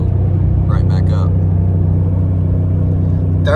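A pickup truck engine drones low and steady while engine braking down a steep highway grade at high revs, a constant deep rumble filling the cab, with a person briefly talking over it.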